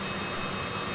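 A Cessna Citation CJ4 business jet on landing approach with gear and flaps down, its engines giving a steady, even broadband roar and whine heard from inside the cabin, with no talking.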